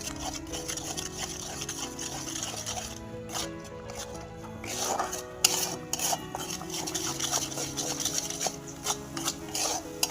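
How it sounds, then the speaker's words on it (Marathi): Garam masala and coriander powder are roasted in a pan for a Marathi-style fish curry, with a spoon rubbing and scraping against the pan in irregular strokes, some clinks of metal, and a faint frying hiss underneath. "छानपैकी भाजायचं आहे आपल्याला हा मसाला."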